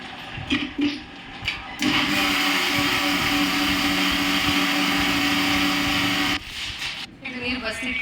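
Mixer grinder grinding masala with lentils, a loud continuous whirring roar that starts abruptly, runs steadily for about four and a half seconds, then cuts off, with brief handling knocks before and after.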